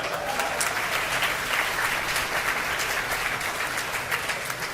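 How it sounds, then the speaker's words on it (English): Steady audience applause at a hospital groundbreaking ceremony, moderately loud and sustained with a rough, even texture of many hands clapping and no speech over it. "Big applause."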